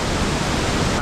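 Ayena waterfall in Nepal roars as a dense, steady rush of falling water, loud and close, with no break for the whole second.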